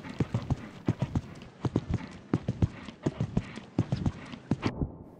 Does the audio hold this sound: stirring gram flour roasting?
no